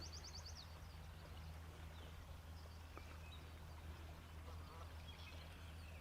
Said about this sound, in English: Oh, there's the geese. Stupid geese.